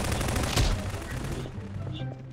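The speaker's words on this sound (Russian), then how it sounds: "Уже стрельбище по мне открылось." Gunfire in the video game Garry's Mod bursts out as a dense, noisy volley with one sharp crack standing out, then fades into quieter game sounds.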